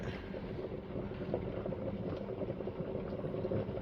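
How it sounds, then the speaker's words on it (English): Extra virgin olive oil hits a hot pan while cooking dinner, giving a steady, dense sizzle that holds at an even level throughout, close and continuous with no talking. "now that this pan don't got nice and hot, I'm gonna get us some of this extra virgin olive oil"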